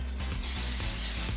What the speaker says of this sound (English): We need to spray this thing down.